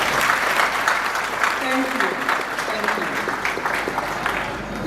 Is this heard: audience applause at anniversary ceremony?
yes